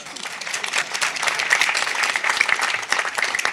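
Audience applause after a request to clap for a mother at a speech, a dense steady patter of many hands filling the room, fairly close and sustained throughout with no talk over it.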